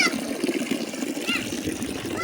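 Water runs and trickles steadily into a basin at a Buddha park shrine as more is poured in, a close continuous splash and dribble with faint background sounds.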